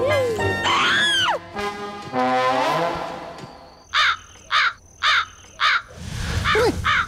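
Crow caws come in a quick series of four harsh, evenly spaced calls, loud and close, after exaggerated vocal cries and before more cawing mixed with a voice.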